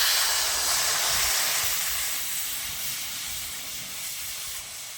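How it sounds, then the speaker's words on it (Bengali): Water hits a hot pan of fried spices on a stove, bursting into a loud, dense hiss of steam that slowly fades over a few seconds. "এবার এতে জল দিয়ে দেবো।"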